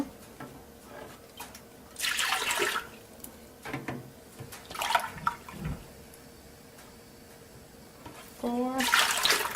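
Whole milk poured from a carton into a measuring cup for a South African milk tart filling, in several gurgling, splashing pours with pauses between them, and someone talking in the gaps.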